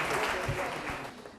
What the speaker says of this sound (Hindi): डॉक्टर साहब के लिए जोरदार तालियां बजाइए